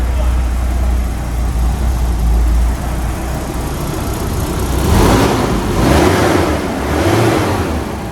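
A Volvo 740 engine with a knocking fault runs steadily on a dyno with a low rumble, swelling a few times as if briefly revved, with no talk over it.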